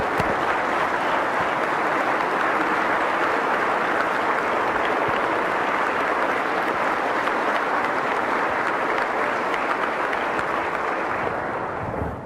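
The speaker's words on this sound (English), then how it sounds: "Please give her a big round of applause." Sustained, dense applause from a large audience at a West Virginia State of the State address, steady and loud for about twelve seconds before easing slightly at the end.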